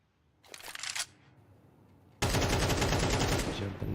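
MAC-10 submachine gun fire in a competitive Counter-Strike-style shooter match, a short burst followed by a pause, then a loud sustained rapid volley of shots filling the rest of the moment.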